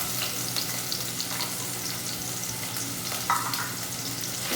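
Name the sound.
garlic and onion sautéing in a hot pan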